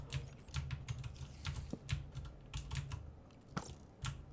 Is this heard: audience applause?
no